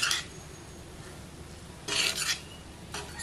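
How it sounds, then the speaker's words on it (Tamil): Rice being stirred into an oiled pan for a lunch-box recipe, giving a couple of short scraping, rasping bursts of a spoon against the pan, close by, separated by a quiet pause. "சாதத்தை வந்து அப்படியே எண்ணெய் சட்டியில் சேர்த்து நல்லா கலர போகிறேன்"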